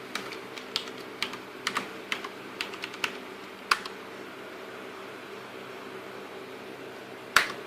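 Someone types a password on a computer keyboard: a quiet, uneven series of close key clicks over a soft fan hum, ending with one sharper keystroke after a pause.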